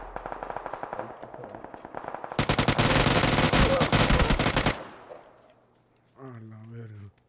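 Automatic gunfire in PUBG: rapid crackling bursts, then a dense, loud sustained volley lasting a few seconds, fading out, followed by a voice.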